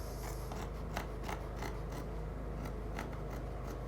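Scissors snipping through fabric while cutting out a princess dart bustier pattern, a series of crisp, irregular close cuts with quiet handling in between, no talking.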